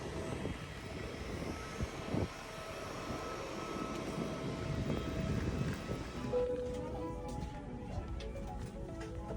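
A British Airways airliner in flight makes a steady, droning cabin rumble of engines that lasts the whole stretch and eases slightly toward the end.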